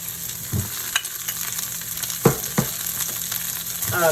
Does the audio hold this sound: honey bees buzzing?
no